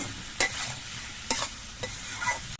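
Prawns with cucumber and coconut being stirred and fried in a pan, a sizzling bed broken by a few quick scraping stirs of the spatula.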